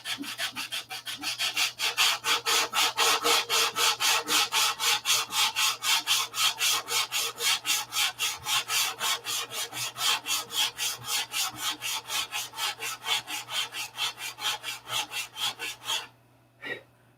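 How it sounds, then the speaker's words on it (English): Wood sanded by hand at a workbench, a fast, steady back-and-forth scratching of close, even strokes, several per second, running without pause for about sixteen seconds before stopping, with a faint low hum underneath and no talking. "now it's just a matter of getting it sanded in and making it look good"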